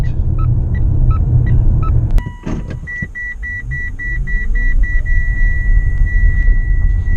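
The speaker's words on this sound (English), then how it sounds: "There's the beeping again. Yay, fasten seatbelt, and the door is open." Series of short, evenly spaced electronic beeps from a Mitsubishi Outlander PHEV's seatbelt and open-door warning chime, repeating steadily over a low engine-like rumble and background noise.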